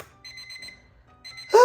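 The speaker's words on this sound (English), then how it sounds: "we're definitely not gonna keep the alarm on because that is annoying" Electronic clock alarm beeps in quick repeated pulses, two bursts separated by a short pause, loud and close, ending in a sudden clatter.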